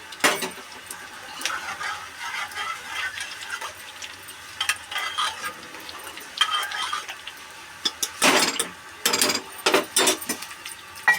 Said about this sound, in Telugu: మనం కొన్ని వాటర్ అయితే యాడ్ చేసుకుందాం